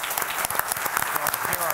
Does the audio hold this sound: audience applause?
yes